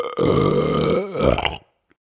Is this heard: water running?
no